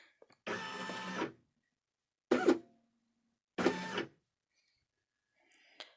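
A Baby Lock Flourish embroidery machine stitches in three short bursts, each a brief whirring run separated by silent pauses, recorded close up.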